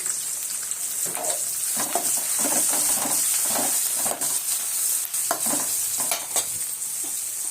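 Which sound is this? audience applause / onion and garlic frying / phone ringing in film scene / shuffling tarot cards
onion and garlic frying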